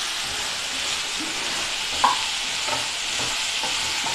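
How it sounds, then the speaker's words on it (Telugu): Half a kilo of chopped chayote fries in a pan with a steady, close hiss of sizzling oil, broken by a soft clink of a stirring spoon midway. "ఇది బాగా ఫ్రై చేయాలండి"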